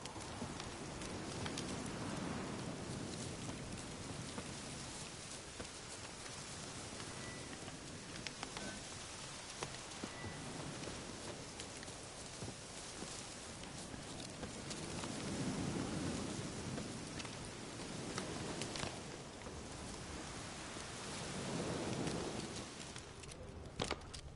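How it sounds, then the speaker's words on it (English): Steady rain in The Witcher 3: Hearts of Stone, a dense continuous hiss of rainfall with a few swelling low rumbles of distant thunder rolling in and out, no speech. "Looks like rain."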